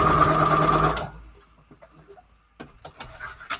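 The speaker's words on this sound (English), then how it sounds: "so I've just been sewing basically like across the flower" A sewing machine stitching through paper across a punched flower shape runs loud for about a second, then stops, leaving faint handling clicks and rustles.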